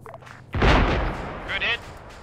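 Gunfire aimed at a scud launcher in a military video game: a single heavy, booming burst of shots lands close and loud, with a short radio-like chirp after it and faint background noise.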